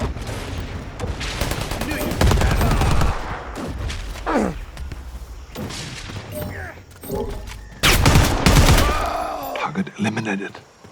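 Bursts of gunfire in the Predator Hunting Grounds video game, loud repeated volleys and rapid shots with booms, mixed with game effects and voices talking in between.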